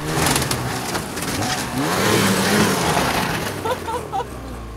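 A loud snowmobile engine revs and roars steadily close by, the pitch rising and falling as it throttles, with no talking.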